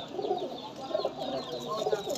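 Pigeons coo softly in repeated low, rolling calls, a few close-by birds in a loft in Lahore, with faint background noise and no talk.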